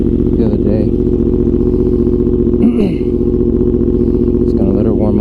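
A Yamaha R1 sport motorcycle idles steadily at close range while warming up at night before a ride, a constant low rumble with a brief blip partway through.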